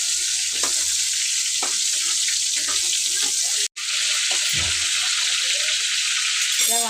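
Ridge gourd curry frying in a pan, a steady close sizzle and hiss running throughout with faint stirring scrapes, briefly cutting out near the middle before resuming.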